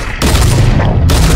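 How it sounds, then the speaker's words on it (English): Loud, dense gunfire bursts in the Fortnite battle royale video game, with sustained rapid shots filling the moment at close range. "Stop shooting at him!"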